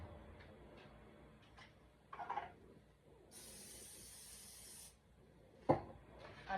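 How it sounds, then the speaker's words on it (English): A steady hiss from a spray can of oil into an air fryer lasting about a second and a half, set among quiet kitchen clatter and a sharp knock near the end. "So I'm going to spray my air fryer."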